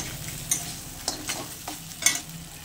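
Chopped onion frying in a pan for a spicy crab dish, with a soft steady sizzle broken by several sharp scrapes and clinks of a spoon stirring against the metal.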